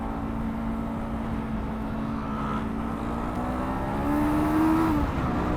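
Voge RR525 motorcycle engine held under light throttle on a ride, a steady close drone whose pitch slowly climbs and swells louder near the end, no talking.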